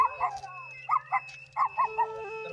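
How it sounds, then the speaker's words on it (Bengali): A dog barking on a hillside trail in South Sikkim: short sharp barks in loose groups of two and three, fairly near, over a faint steady background hum. "এবার একটা কুকুরের দেখা, সে আমাদের ওপরে দেখতে পেয়ে খুব চেল্লাচ্ছিল"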